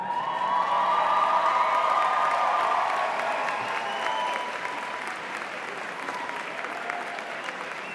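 Graduates at a University of Michigan School of Public Health commencement applaud their families, a large crowd's sustained clapping that swells early and then gradually thins, with a few faint whoops.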